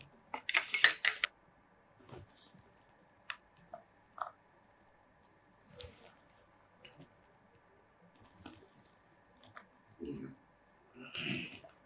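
A spoon scrapes and clinks against a dish while peanut chaat is moved into a serving bowl, giving sparse, quiet metallic clicks and taps at irregular intervals with brief pauses between them.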